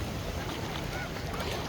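Continuous wash of ocean waves at a beach at night, a steady loud roar with rough wind-like texture, no speech over it.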